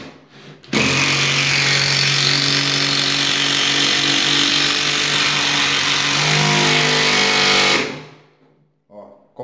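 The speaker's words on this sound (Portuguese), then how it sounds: "Eu vou parafusar um MDF no outro." A Makita 12V impact driver drives a screw through two sheets of MDF, a loud, steady whirring, rapid hammering burst lasting about seven seconds that starts and stops abruptly, close up.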